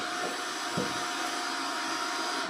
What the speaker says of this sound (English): Let's test the dryer